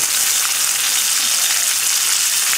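Smelts fry in extremely hot oil, giving a steady, dense hiss of sizzling bubbles throughout, close and even with no speech.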